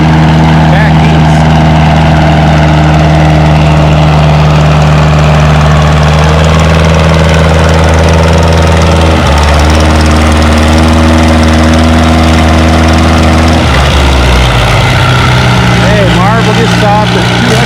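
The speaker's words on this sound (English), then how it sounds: "we have Dean Gerke on Bocephus, the 444 Massey Harris, former St. Jude's raffle tractor from back east." A Massey Harris 444 tractor engine labors loudly at a tractor pull, a steady droning roar whose pitch shifts and then drops near the end as it slows, with an announcer talking over it.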